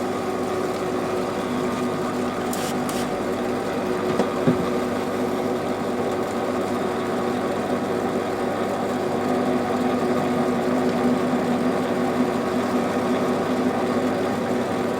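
A lathe runs at about 330 RPM, fine-diamond knurling a needle file handle lubricated with WD-40, giving a steady, even mechanical hum and whir throughout with a couple of faint ticks and no voice.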